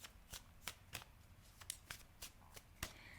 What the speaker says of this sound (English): I just want to shuffle a little bit more